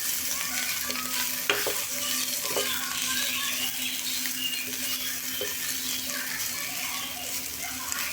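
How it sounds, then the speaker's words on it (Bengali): Boiled pointed gourd peels are stirred and fried in oil, giving a dense, steady sizzle with a few sharp clacks of a utensil against the pan, close and loud throughout, with no talk. "আমি এই তেলের মধ্যে কিছুক্ষণ একবার নাড়াচাড়া করে নেব।"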